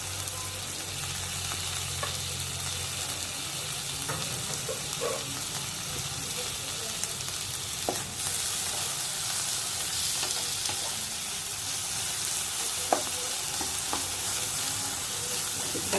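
Tomatoes frying in a pan for lobia, a black-eyed pea curry, make a continuous loud sizzle with occasional stirring clinks and scrapes throughout.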